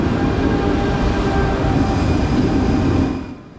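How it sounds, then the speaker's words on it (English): A seven-car Czech Class 680 SuperCity Pendolino tilting electric train arriving at a station, a steady loud rumble with faint tonal whine that holds throughout and then fades slightly at the end. "Our train pulls in around 10 minutes before our scheduled departure."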